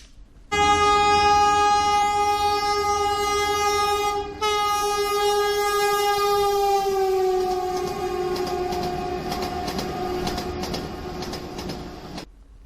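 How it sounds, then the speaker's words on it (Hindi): Vande Bharat Express high speed train running on the Patna to Ranchi route sounds a long loud horn blast with rich harmonics, then keeps rumbling past, its tone dropping as it moves away. "वंदे भारत एक्सप्रेस ट्रेन पटना से रांची तक कोडरमा, हजारीबाग टाउन, बड़काकाना होते हुए रांची तक जाएगी।"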